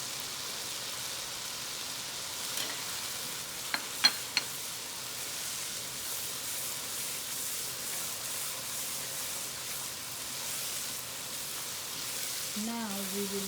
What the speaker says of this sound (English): Now we will let it roast probably another few minutes